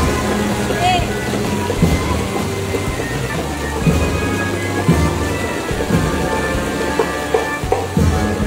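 Heavy rain pours down during Typhoon Carina in the Philippines, a steady, loud, close broadband rush that never lets up, with faint voices underneath.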